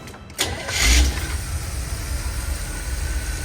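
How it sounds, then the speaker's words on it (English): A 1979 Chevy G20 van engine cranks briefly, catches and settles into a loud, steady, low rumbling idle, heard close with no talking. "All right, I'm gonna start it up so you guys can hear it run."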